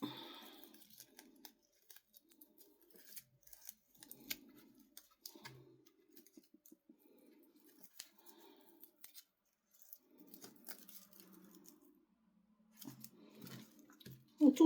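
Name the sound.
cutting straw with scissors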